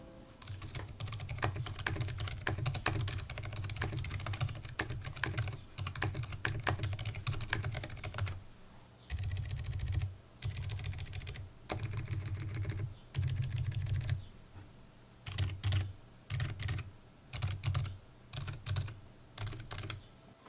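Typing on a black mechanical keyboard in a silent configuration with translucent black PBT keycaps, a steady run of soft, muted keystrokes in continuous bursts with short pauses, close and alone.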